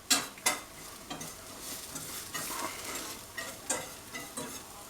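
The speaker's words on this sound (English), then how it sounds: "Once we got a roux going, we're going to cook that for a minute or two." A blonde roux sizzling in a pan while being stirred: soft continuous frying hiss broken by repeated scraping strokes of the spoon, close and fairly quiet, with no voices.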